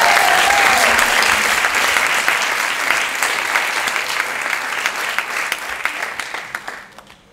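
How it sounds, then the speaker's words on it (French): An improv festival audience in Paris applauds a volunteer, a loud full burst of clapping that thins gradually into a few scattered claps at the end. "On peut l'applaudir très très fort."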